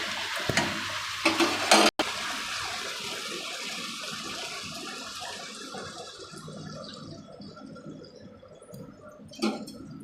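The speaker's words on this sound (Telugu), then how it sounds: "కొంచెం నీళ్ళు వేద్దాం" Water poured into a simmering methi chicken curry with cashew powder, a steady close liquid rush and splash running throughout, with a few sharper clatters near the start and a brief knock later.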